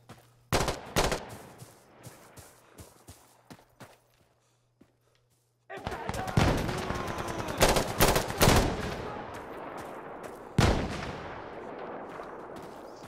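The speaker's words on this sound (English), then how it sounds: "I'm going a full fucking shotgun rampage" Heavy shotgun blasts boom one after another in the tactical shooter Insurgency, a few sharp shots early, then a dense loud run of firing after a brief near-silence.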